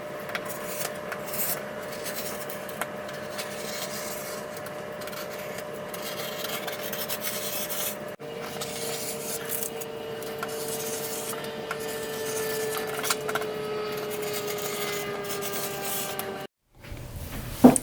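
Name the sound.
cutting out fabric pieces for a sewn robe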